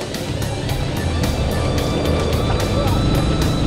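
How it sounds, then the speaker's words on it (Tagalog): A car on the road passes by as a loud, close engine and road rush that holds steady, with repeated sharp clicks or knocks along the way and people talking over it. "May kotse ah."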